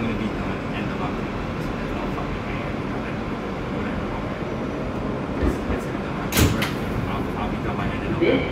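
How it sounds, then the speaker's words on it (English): Riding inside an R160B subway car on a World Trade Center bound E train heading to 50th Street, with a steady loud rumble of wheels and motors and a few sharp clanks and rattles near the end. "This is a World Trade Center bound E train."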